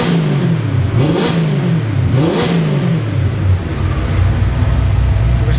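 A 308 V8 car engine with an MSD programmable ignition revs hard in repeated rising and falling bursts, loud and close, with a deep rumbling idle between the throttle blips.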